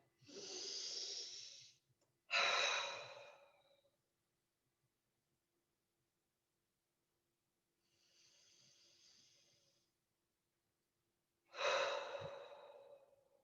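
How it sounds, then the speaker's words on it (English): Four slow, deep breaths taken during a calm guided relaxation, audible inhales and exhales spaced apart with quiet gaps, close and fairly soft, no talking. "just take 2 or 3 good breaths in and out"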